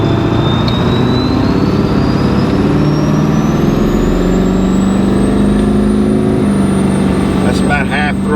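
A Ford 7.3 Powerstroke diesel truck decelerates with a loud, close, continuous low engine drone whose pitch sinks gradually, a braking effect similar to a Jake brake.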